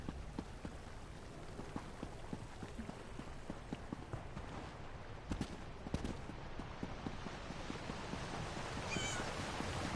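Two cats meowing in Elder Scrolls Online, faint calls that surface now and then over a steady bed of rain-like patter and ambient game noise.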